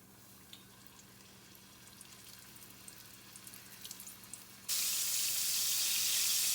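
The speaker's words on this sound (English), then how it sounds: "If you have to wash your tongs like I just did, you definitely don't want water in them" A kitchen tap suddenly turns on at full flow to wash cooking tongs, a loud steady rush of water that follows quieter background sizzling from chicken frying in hot oil.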